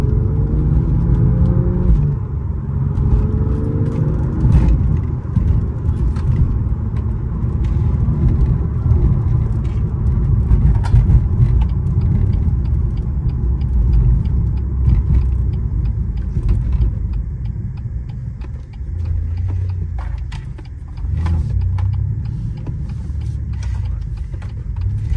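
A 2019 BMW M2 Competition with 411 hp cruising through a city centre, its engine droning steadily with low rumbles, gear changes and occasional clicks and creaks, continuous and close, with no talking.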